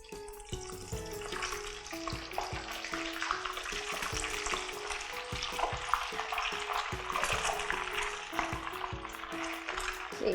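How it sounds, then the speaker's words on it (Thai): Pounded, shredded catfish dropped into oil heated medium-high to very hot makes a dense, continuous crackling sizzle, with a melodic background tune running underneath. "หลังจากที่เราตำเนื้อปลาดุกเสร็จแล้วนะคะเราจะมาเริ่มทอดตัวปลาดุกฟูกันค่ะ"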